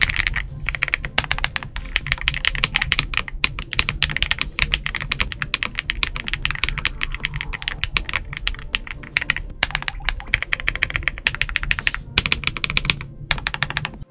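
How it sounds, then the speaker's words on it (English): Steady, dense typing on an Ajazz AK820 Pro 75% mechanical keyboard, close and crisp, with rapid overlapping clacks and no voices throughout. "these keyboards sound just really good"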